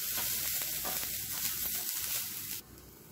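Grated coconut and spices roasting in a pan for a cauliflower masala fry, a faint steady sizzling hiss with light stirring that cuts off abruptly near the end.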